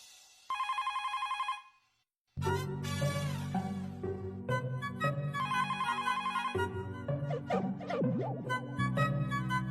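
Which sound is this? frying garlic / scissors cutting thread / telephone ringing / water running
telephone ringing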